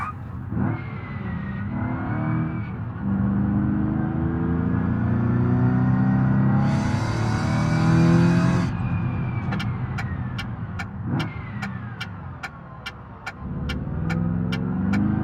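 A car driving in the BeamNG career mode game: steady engine drone with rising and falling revs, a brief higher whine in the middle, then a series of regular sharp clicks near the end, continuous and close.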